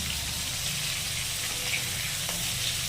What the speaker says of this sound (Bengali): এবার আমরা মাছগুলো হালকা করে আলতো লাল করে ভেজে নেব